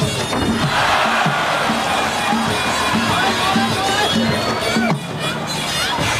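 A large crowd at a Thai Fight Muay Thai event in December 2012, Sudsakorn Sor Klinmee against Gustavo Mendes, cheers in loud rhythmic waves. A commentator talks excitedly over the steady roar.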